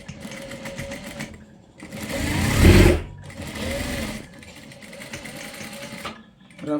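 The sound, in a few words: sewing machine stitching a pant back pocket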